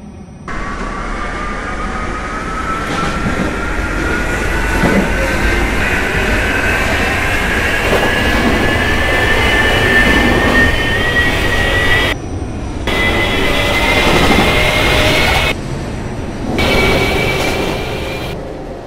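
A Brooklyn-bound New York subway M local train runs past, a loud sustained roar of wheels and motors with a rising whine, steady for the whole stretch with brief dips, no talk.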